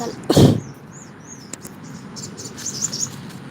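Small birds chirp and tweet faintly in the distance over outdoor background noise, with a brief loud rustle near the start.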